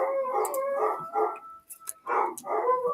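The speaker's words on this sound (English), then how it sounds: "Oh my god, my dogs are losing it." Dogs indoors bark and howl in excited bursts, several loud overlapping barks with short gaps, close to the listener and with no talking.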